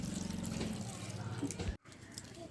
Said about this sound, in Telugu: దాంట్లోకి కొన్ని వాటర్ పోసుకుంది